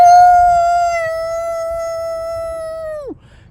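A person imitates a wolf howl, holding one long, steady, tonal note for about three seconds before it slides sharply downward and cuts off, loud and close.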